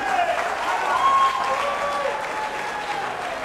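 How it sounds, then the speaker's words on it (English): Steady crowd applause fills a beach boxing event at the Hard Rock Hotel on Daytona Beach, Florida, clapping for both fighters; dense, continuous and moderately loud, with faint voices and whistles under it. "let's have a nice round of applause for both fighters"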